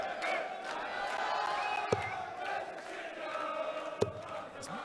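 Darts crowd at the PDC European Championship 2021 cheering and shouting after a 140 score, a loud sustained roar of many voices with two sharp thuds, commentary-like voices mixed in.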